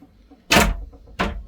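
A storage cupboard door on a Marex 33 cruiser boat is opened with two distinct bumps or thuds about half a second apart, close and fairly loud, with quiet cabin background and no talking.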